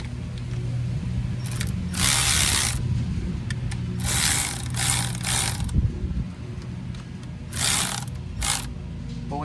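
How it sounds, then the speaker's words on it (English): Cordless ratchet tightening brake caliper bolts on a 2015 Chevrolet Silverado, several loud buzzing motor bursts with rapid ratcheting clicks, separated by quieter handling noise. "if you're using a cordless ratchet, admittedly I probably should be doing this by hand"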